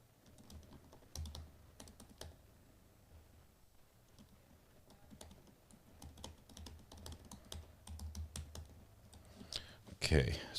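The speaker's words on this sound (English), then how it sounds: "I can't talk while I'm typing" Typing on a computer keyboard, a scattered series of quiet close key clicks in irregular bursts, ending in a louder clatter of rapid keystrokes.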